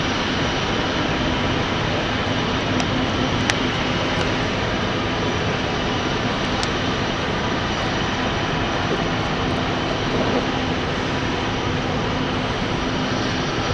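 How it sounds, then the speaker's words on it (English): Propeller aircraft engines at London City Airport roar in a loud, steady drone that holds without a break, with the faint rumble of the airfield beneath it. "we should see ignition in a moment for the propeller engines of Logan"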